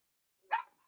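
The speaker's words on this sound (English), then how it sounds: "Hey, shut up. Stupid dog." A dog gives a single short, fairly faint bark, heard off in the background during a quiet moment.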